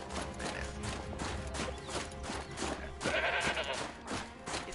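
A goat bleats in Horizon Zero Dawn, a wavering bleat rising out of dense game ambience and rhythmic footsteps, with a louder call toward the end.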